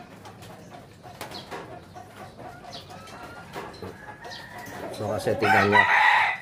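Backyard broodcock rooster and hen cluck and call near the end, growing louder over faint bird sounds, while someone speaks briefly at the start.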